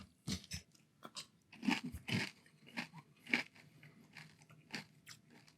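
Wheaties Protein Maple Almond cereal crunched in milk, with a string of close, irregular bites and chewing crunches spread across a few seconds, quiet and with no talking.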